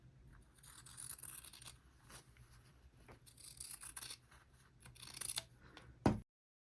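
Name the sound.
cutting fabric with scissors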